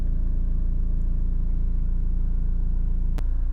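Honda CR-V 2.2 i-CDTi diesel engine with 75,807 miles idling steadily, a close, even low rumble with a regular diesel knock and one brief click near the end.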